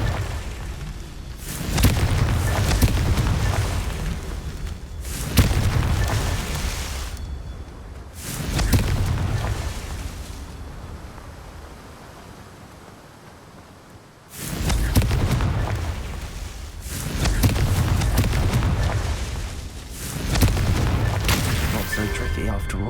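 A Confringo blasting spell goes off repeatedly in a Harry Potter video game. About five heavy, booming explosions each roll out into a long rumble, loud and close, with short quieter gaps between them.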